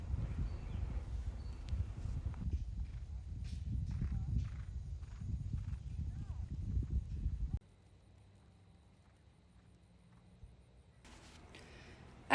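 Rhythmic hoofbeats thud steadily as a horse trots on a lunge circle for several seconds, then the sound drops away to a quiet, low hum.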